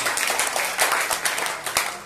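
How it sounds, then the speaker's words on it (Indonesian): Audience applause at a Family Blessing church service in Kelapa Gading, Jakarta: dense, steady clapping from a congregation fills the room at moderate loudness for the whole stretch, with no voices standing out. "Tepuk tangan bagi Yesus."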